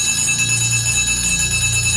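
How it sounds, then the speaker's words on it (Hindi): A school bell ringing steadily, a continuous bright metallic clang sustained for a couple of seconds, loud and close with no pauses. "स्कूल की घंटी बज उठी"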